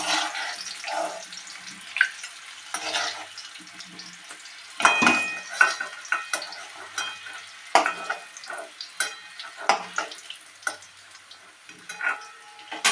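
Potato pieces frying in oil for shol fish kalia, a soft intermittent sizzle broken by scattered clinks and stirring knocks, fairly quiet and close.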